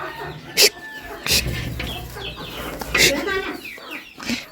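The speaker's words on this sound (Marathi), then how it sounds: "कोंबड्या येतात लगेच बाहेर." Hens in a village yard cluck in short, scattered bursts, close and moderately loud, with a person talking among them.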